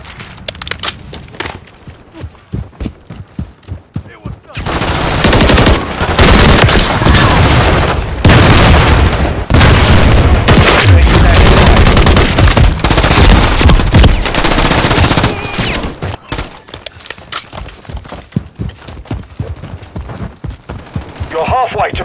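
Rapid automatic fire from the BASB battle rifle in Call of Duty: Modern Warfare III, loud sustained bursts forming a dense continuous roar in the middle, with sharper separate shots and booms before and after.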